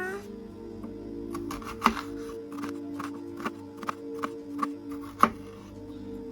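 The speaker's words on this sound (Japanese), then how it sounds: "まずは玉ねぎを粗みじんにします。" A knife chops onion on a cutting board into a coarse mince, giving a series of sharp, close taps at an irregular pace, some louder than others, over a faint background hum.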